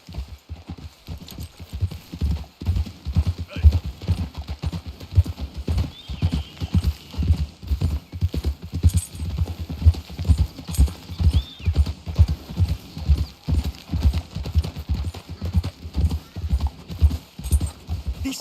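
Horses in the Red Dead Redemption 2 video game trot along with a steady, rhythmic clip-clop of hooves that runs throughout. A horse whinnies once and faint voices come through under the hoofbeats.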